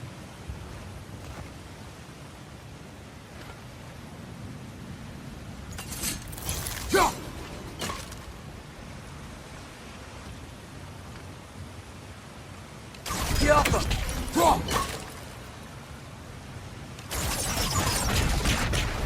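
Water rushes through a mechanism in God of War Ragnarök, coming as loud, hissing gushes in three separate bursts over a low, steady ambient hum.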